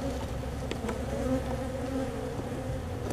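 Honeybees from a hive built inside a bird house swarm and buzz nearby in a dense, continuous hum, with individual bees droning past up close.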